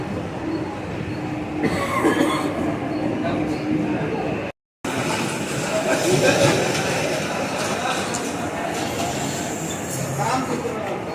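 A Mumbai local commuter train rumbles steadily along the tracks with rattling carriages and occasional wheel squeal, crowd noise and voices mixed in, briefly cut out midway.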